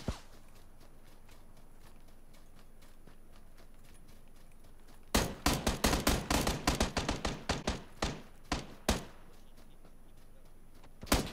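Suppressed gunfire in a video game, a rapid burst of sharp cracks in quick succession after several quiet seconds, followed by a few more scattered shots.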